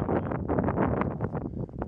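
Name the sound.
wind blowing over grasslands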